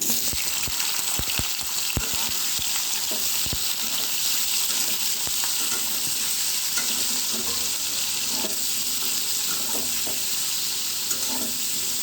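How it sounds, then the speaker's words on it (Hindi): Paneer fries in a hot kadai with a steady, dense sizzle that runs the whole time, and a few sharp taps and clinks from a utensil land near the start. "मु एथर पनीर पकई भाजी दूची।"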